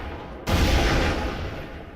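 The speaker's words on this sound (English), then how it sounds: "Some explosions go off." Explosions in the VR shooter Breachers during a competitive match, a sudden loud blast that cuts in and rumbles on with a dense, sustained roar before easing off.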